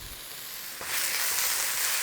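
Onions frying for a curry sizzle steadily in a pan, a close, airy hiss that swells louder partway through and then holds.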